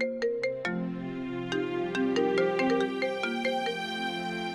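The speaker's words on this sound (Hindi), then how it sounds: "मेरा फोन बज रहा है" A phone ringtone plays a bright, repeating electronic melody of plinking notes, clear and steady with no talking.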